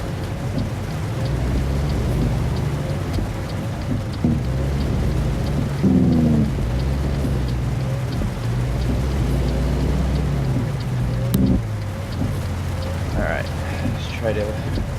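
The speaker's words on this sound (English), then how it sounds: "Really wish the rain would stop." Heavy rain drums steadily in American Truck Simulator, with rumbles of thunder and a continuous truck engine drone beneath the downpour, plus a few short tonal chimes near the end.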